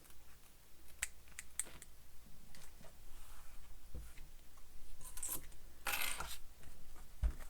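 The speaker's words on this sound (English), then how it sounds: "And I'm using scissors that are not my good scissors." Scissors snip through beach-bag fabric in a string of short, crisp cuts, scattered at first and then closer together, with a louder snap near the end.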